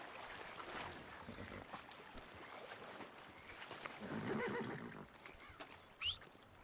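A horse whinnies in the video game Red Dead Redemption (RedM roleplay), a faint call that rises amid a steady wash of water and ambient game noise, with no talking.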